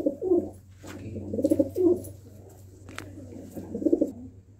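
Kalsere pigeons coo in repeated soft, throaty phrases nearby, with a few wing or cage rustles between calls and no talking.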